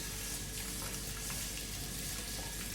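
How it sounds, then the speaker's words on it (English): Tap water runs steadily from a faucet as a child rinses hands at a sink, a continuous broadband splash that holds even and close throughout with no talk over it. "Now rinse your hand."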